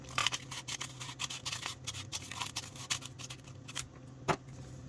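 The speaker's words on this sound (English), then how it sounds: "I'll stick the scissors in that hole. Now we'll just cut" Scissors snip through a folded paper loop, cutting along its middle in a quick run of close, crisp clicks and rustles, with one sharper snap near the end.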